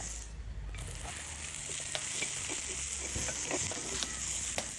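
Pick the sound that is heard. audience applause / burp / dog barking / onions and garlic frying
onions and garlic frying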